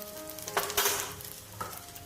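Crushed garlic hits hot oil for a dal tempering, giving a couple of bright sizzling bursts with stirring sounds, close and moderately loud, with no talking.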